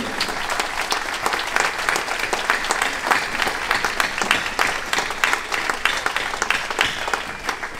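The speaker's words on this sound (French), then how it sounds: "Merci de les applaudir." A crowd at a demonstration in Lannion applauds continuously, dense steady clapping from many people that holds at an even level for the whole stretch.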